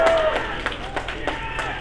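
Crowd of people gathering at a Rahul Gandhi rally during the Bharat Jodo Yatra, a steady murmur of a large outdoor gathering with scattered claps and bursts, under a reporter's voice.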